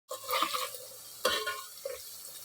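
Onions, green chillies and curry leaves hit hot oil in a kadai, giving a close, crackling sizzle with stirring scrapes and a second burst as more goes in.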